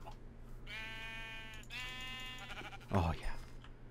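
Two drawn-out Minecraft sheep bleats sound one after another over a low steady hum, followed by a brief louder rustling thump.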